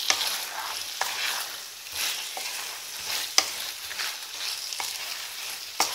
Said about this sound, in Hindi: पाँच मिनट तक चलाएंगे